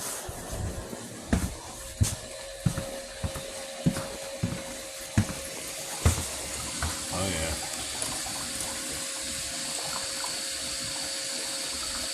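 Water rushes through a line as the flow is ramped up, a steady hissing flow with scattered knocks and clunks over the first half, close by, with faint voices at moments.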